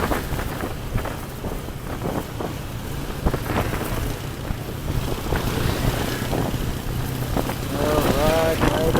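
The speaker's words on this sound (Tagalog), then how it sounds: "Lakas talaga ng hangin, nilalamig ako." Strong wind roars steadily across a moving motorcycle's microphone on a cold, stormy ride, a constant buffeting rumble that swells toward the end, with a voice speaking intermittently through it.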